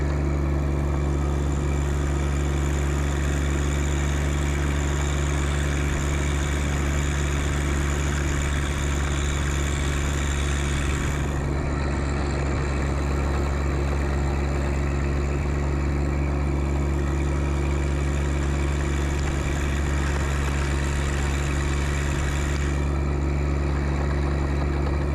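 A John Deere 1025R subcompact tractor with a loader-mounted snow plow runs steadily in high range while pushing snow off a road, its engine giving a constant close, even hum with no voices.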